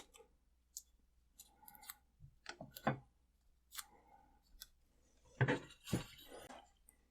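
Pieces of tape being cut in half with scissors at a wire-wrapping workbench; a few sparse, quiet snips and clicks come up close, separated by silence and growing slightly denser toward the end, with no talking.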